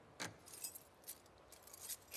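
Keys jangling in The Last of Us Part II: several quick metallic jingles and chinks at irregular intervals, close and fairly quiet over a soft background hiss.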